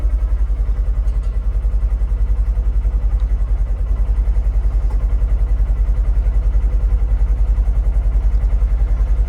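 Polaris Xpedition Northstar side-by-side engine idling, heard from inside the cab: a steady, loud low rumble with an even pulsing throb throughout, no voices.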